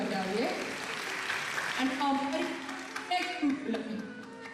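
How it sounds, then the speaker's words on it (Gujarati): An audience applauds to welcome the director and writer of a traditional Indian wedding stage drama, a steady wash of clapping running beneath someone speaking over it. "રશ્મિભાઈ શાહ અને રેખાબેનનો આપણે તાળીઓથી વધાવીએ"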